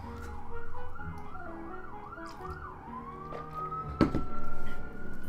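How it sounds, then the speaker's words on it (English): An emergency vehicle siren wails in rising and falling sweeps, then shifts to a long steady tone as it passes, moderately loud with a sharp knock partway through and no voices. "We'll wait for the siren to pass."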